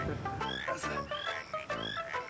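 Frogs near Table Mountain give repeated loud, rasping croaks in irregular bursts, several overlapping calls close by, with no talk over them.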